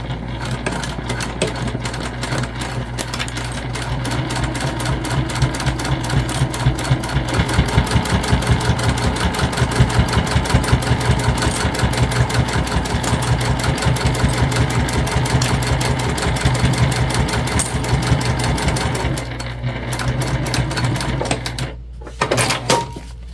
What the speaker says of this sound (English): we're gonna go ahead and just top stitch this one side